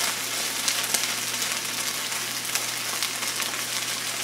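Mushrooms frying in a pan as they cook down, a dense, even sizzle with light pops and crackles throughout, close by and steady, with no talk.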